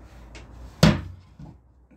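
Storage locker lid on a tracked swamp vehicle, freshly broken in and still unwashed, shuts with a single sharp thump, close and loud, after a faint earlier click, with a softer knock trailing behind.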